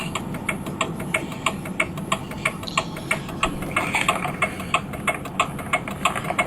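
Farm tractor engine running steadily on a country road in Bucks County, a continuous mid-pitched drone with a rapid, regular ticking pulse, moderately close and without speech.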